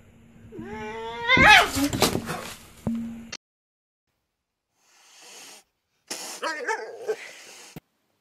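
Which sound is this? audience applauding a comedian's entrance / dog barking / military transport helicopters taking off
dog barking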